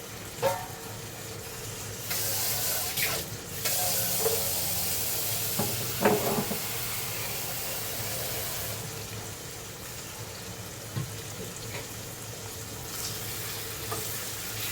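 Water is poured into a simmering fish curry with raw tomatoes in the pot, giving a soft, fairly quiet splashing and bubbling sizzle with occasional stirring clinks.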